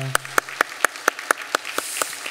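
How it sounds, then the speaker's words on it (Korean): Steady, rhythmic clapping, about four even claps per second, as a church congregation at a Wednesday service claps together for a couple of seconds. "박수로 한번 격려하겠습니다"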